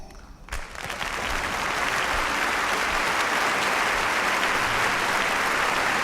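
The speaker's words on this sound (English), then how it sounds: "let's give Trump Vader his round of applause" A small group on a podcast breaks into a round of applause, with a sharp clap and a brief gap followed by steady, dense clapping that holds fairly loud and close.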